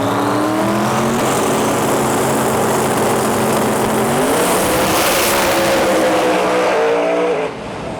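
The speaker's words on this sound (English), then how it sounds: "There we go, there's a big burnout." A pro mod drag race car doing a big burnout at a testing session, its engine roaring loud and steady with screeching tires, the pitch climbing partway through before the noise cuts off near the end.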